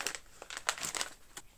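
Packets of curing seasoning and salt for Podillia-style salted pork crinkle and rustle as they are handled and opened, with a few short, crisp plastic crackles close by and no voices.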